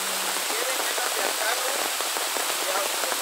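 Rain falling outdoors, a dense steady patter of drops on surfaces that stays constant throughout, with faint voices murmuring underneath.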